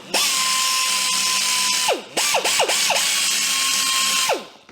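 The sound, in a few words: small power sander buffing tractor paint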